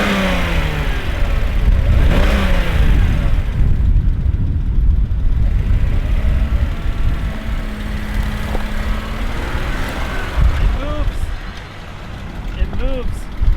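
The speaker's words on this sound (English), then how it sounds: "I'm going to try to put it into gear, let out the clutch, see if we can get it to move and roll a little bit." A BMW E39 car engine revs steadily as the clutch is let out and it is put into gear, a continuous mid-pitched drone with rising and falling pitch sweeps, near and fairly loud throughout.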